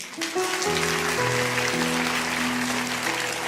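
A church congregation claps together in a sustained wash of applause, layered over steady held keyboard chords that shift a few times.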